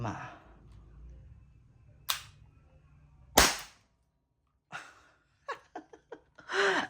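An Umarex T4E TR50 CO2-powered gun fires several sharp, close shots spaced a second or so apart, followed by a quick cluster of short pops, with brief talk at the start.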